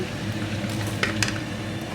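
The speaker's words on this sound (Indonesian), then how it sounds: "aku sekarang goreng ikan asin" Salted fish from Blitar frying in hot oil, a steady close crackling sizzle with a couple of sharp pops and a faint clink of a utensil partway through.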